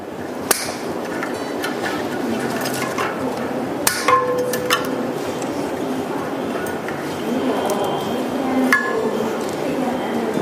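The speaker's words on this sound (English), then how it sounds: "Cut the straps, removing the protective casing for the disc brake." Straps being cut and a protective casing pulled off the disc brake while assembling a SPLACH Patriot Pro bike, heard as a few sharp clicks and knocks with plastic rustling at close range.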